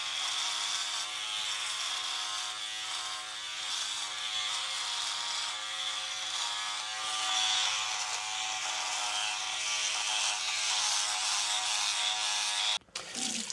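A Philips OneBlade electric shaver trims along a jawline with a steady, close, buzzing hum that holds even for about thirteen seconds, then cuts off abruptly near the end.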